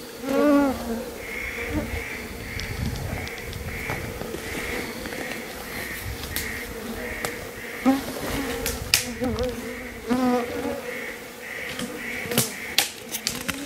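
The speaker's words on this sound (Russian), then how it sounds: "комаров здесь предостаточно" Mosquitoes swarm in the Siberian taiga, a steady high whining buzz that holds through the whole stretch, close to the ear, with faint rustling and handling noises mixed in.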